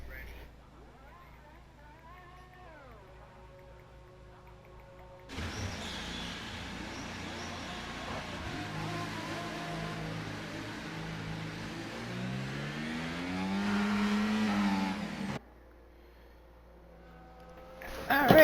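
Formula 1 race cars in a video game, revving and whirring as they move out of the Netherlands pit lane, engine tones rising and falling over several seconds before a sudden cut, with faint talk underneath.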